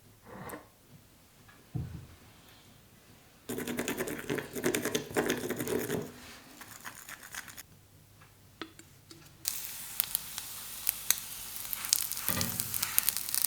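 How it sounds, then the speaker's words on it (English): Onigiri rice balls frying in sesame oil, a close, steady sizzle that crackles and hisses in waves, quieter at first and then growing louder and denser toward the end, with no talking. "I then fry the onigiri in some sesame oil"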